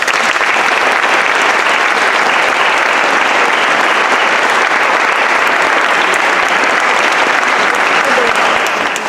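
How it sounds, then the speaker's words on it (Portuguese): Steady, dense applause from a large audience at a university folk group's performance, filling the whole stretch loudly and evenly without a break. "Palmas."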